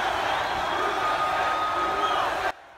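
A huge crowd of Boy Scouts at their Jamboree cheers for President Trump, a dense, steady roar of many voices that holds at the same loudness and then cuts off abruptly.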